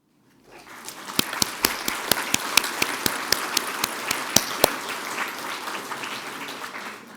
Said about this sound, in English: obviously it was a spontaneous round of applause